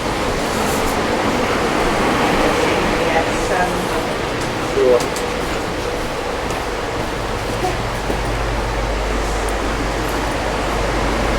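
An underground metro train runs at speed, heard from inside the carriage as a steady, loud rushing roar with low rumble and clatter throughout, and a low hum swelling near the end.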